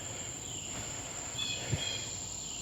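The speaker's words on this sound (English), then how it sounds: "I'm also hearing the trigs. Yeah, by this time of year they're probably sage trigs." Sage trigs, a kind of cricket, chirp in a faint, high, thin trill that carries steadily in the background of a quiet summer outdoor scene.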